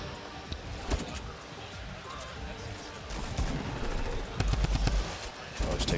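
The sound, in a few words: gunfire in the video game Fortnite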